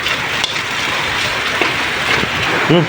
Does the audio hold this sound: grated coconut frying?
no